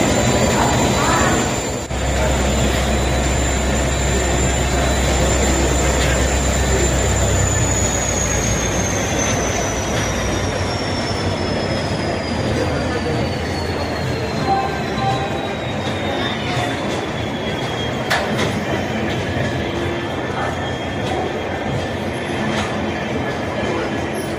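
A locomotive, engine 370 from Royapuram, pulls a train into a station on the Tiruchirappalli–Tambaram route. The rumble and wheel noise stay loud and close throughout, with a high squeal that slowly falls in pitch as the train rolls in.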